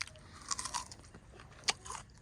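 Crunchy bites into an unripe green banana, Mysore variety, outdoors: a few sharp crisp snaps up close, then chewing crunches, with one loud bite standing out near the end.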